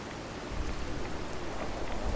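Rain falls steadily in the Fallout 4 game world, a dense even patter with a soft low rumble underneath; no talking.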